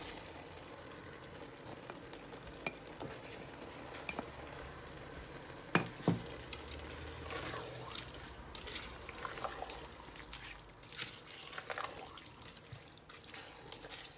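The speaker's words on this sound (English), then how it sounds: "So we're going to give this a stir. We're going to add our frozen sweet corn and peas as well." A chicken meatball dish in a pan is stirred after frozen sweet corn and peas go in, giving a quiet, steady sizzle with scattered scrapes, wet clicks and one or two louder knocks, and no talking.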